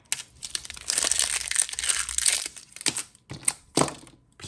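Craft adhesive vinyl peels off its backing sheet in close, crinkly tearing and crackling bursts, first in one longer pull, then several short separate rips with quiet gaps between.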